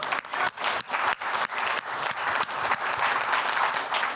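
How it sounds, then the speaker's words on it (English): An audience at a 2023 software summit's developer session gives a round of applause for a hackathon champion, loud, dense clapping from many hands lasting about four seconds with no talking. "another round of applause for the 2023 Hackathon champion here, Patrick"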